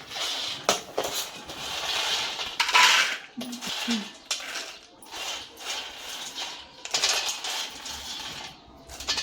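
Dry peanuts poured into a cup for peanut barfi in a home kitchen, giving a run of rattling, clattering bursts with short pauses between them, close and fairly clear, with no talk.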